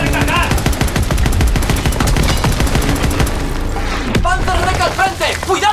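Dense battle gunfire in the World War II shooter game Call of Duty WW2, overlapping rifle and machine-gun bursts with a deep boom, followed by scattered shots as Spanish-speaking soldiers shout over the fight.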